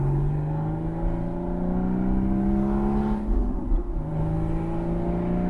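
A Porsche Boxster 981 running an FVD Stage 1 tune pulls hard in third gear, its engine note rising steadily in pitch with a loud, continuous sound heard from inside the cabin and no talking.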